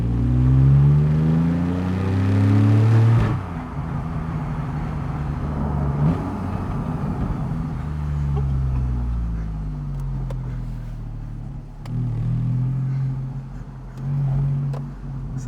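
A Porsche 911 Carrera 4S (991.1, naturally aspirated) revs hard and drops through the gears, the engine note climbing and falling in repeated loud sweeps close by, with no talking.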